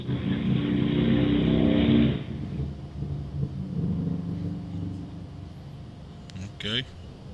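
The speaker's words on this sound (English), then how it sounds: "I think it was a motorcycle or something went by." A motorcycle goes by, its engine roaring loudly for about two seconds and then cutting off, followed by quieter background noise and a brief clunk near the end.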